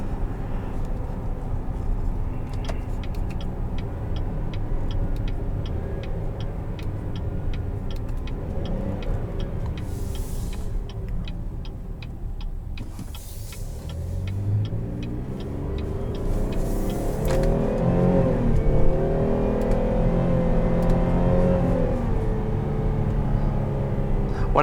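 A 2020 Buick Enclave Essence engine pulls through the gears, droning steadily then dipping at a shift around the middle before climbing again under load, heard from inside the cabin with no talking.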